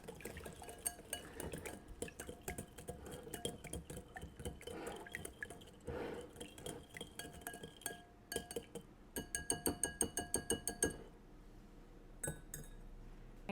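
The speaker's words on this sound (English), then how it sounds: "we're going to stir this until everything is dissolved." Lemon glaze being stirred until it dissolves, giving repeated light glassy clinks and liquid swishing at close range, with steady tonal sound underneath and a quicker run of clinks near the end.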